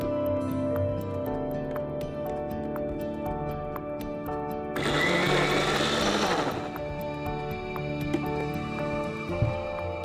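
A blender runs on a watermelon, kiwi, mint and low-fat yogurt smoothie, a loud steady whirring burst in the middle of a quieter, regularly ticking mechanical hum.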